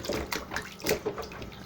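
Onions washed under running water, with splashing and pouring bursts that come and go briefly and sound close up.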